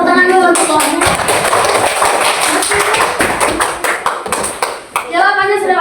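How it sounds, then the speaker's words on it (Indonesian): Elementary school pupils clap together in a classroom, a dense burst of hand claps lasting several seconds before fading, with children's voices heard at the start and end. "Oke, tepuk tangan dulu."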